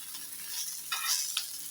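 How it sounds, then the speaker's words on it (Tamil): Fish frying in a pan gives a soft continuous sizzle with a few brief crackling pops, fairly quiet and close, no talking. "ஹாய் ஃப்ரெண்ட்ஸ், ஃபிஷ் அழகாக ஃப்ரை ஆயிடுச்சு."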